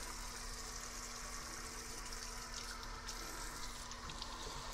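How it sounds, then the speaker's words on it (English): Water runs steadily from a sink tap during handwashing, a continuous hiss and splash that holds at an even level throughout with no voices. "you're going to turn your water on"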